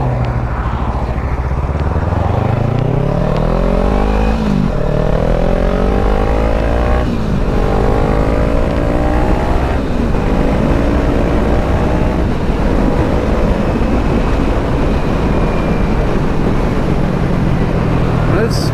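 A 2014 Kawasaki Ninja 300 ABS motorcycle on a test ride, its engine loud and close as it climbs through gears in rising revving sweeps with shifts between, wind rushing underneath and some voice faintly present.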